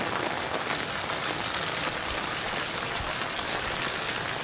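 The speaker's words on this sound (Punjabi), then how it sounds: "ਮੀਂਹ ਵੀ ਕਣੀਆਂ ਜਿਹੜੀਆਂ ਨਾ ਥੋੜੀਆਂ ਹੌਲੀ ਹੋ ਗਈਆਂ ਘਟਣਾ ਸ਼ੁਰੂ ਹੋ ਗਿਆ ਮੀਂਹ" Steady monsoon rain patters on a surface in a village, slowly easing off, a continuous moderate hiss without speech.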